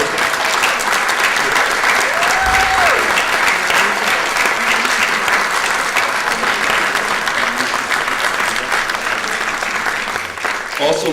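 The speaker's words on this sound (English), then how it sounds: "I'd like to give another round of applause for all of our panelists today." A symposium audience applauds its panelists with sustained, loud clapping and some cheering, a dense continuous roar of hands that holds steady throughout before easing slightly at the end.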